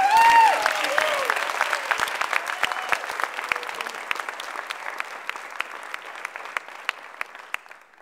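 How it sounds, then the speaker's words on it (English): Audience at a county political meeting claps in sustained applause for the county chair, starting loud and full, then thinning into scattered individual claps as it fades. "would you give her a big round of applause?"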